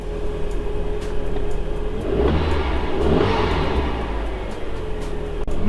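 Mk2 Audi TT engine running and revving, a steady mid-pitched drone that swells into a louder rev in the middle before settling back to a constant idle-like hum, close and without talk.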